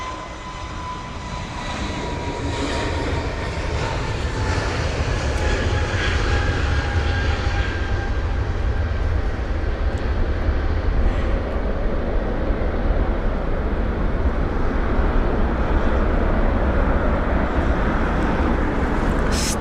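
An airliner departing London Heathrow, a loud, continuous jet roar that swells in the first couple of seconds and then holds a powerful broadband rumble with a faint whining tone, heard alone without talk.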